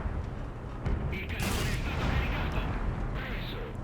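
An Abrams tank cannon fires in War Thunder, giving a heavy boom near the middle of the clip over a steady rumble of engine and battlefield noise.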